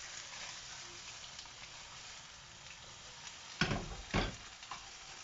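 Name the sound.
browning food in butter in a frying pan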